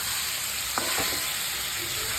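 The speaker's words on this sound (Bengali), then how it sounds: "চিকেন কষা বসানো হয়ে গেছে" Chicken kosha cooks in a pan, a steady close sizzle of frying with a couple of soft stirring scrapes near the start.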